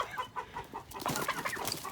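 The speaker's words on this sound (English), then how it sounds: "He fights with me. I think he thinks that my shoes are another chicken or something." A rooster clucks rapidly while attacking, a quick series of short, close, moderately loud clucks in an agitated rhythm.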